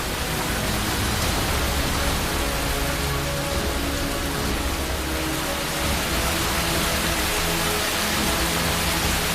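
Heavy rain pours down in Cherrapunji, Meghalaya, in a loud, dense, unbroken roar that stays constant from start to finish.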